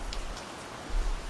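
Steady ambient rain hisses broadly and evenly with a soft low rumble, continuous and unbroken, with no voices.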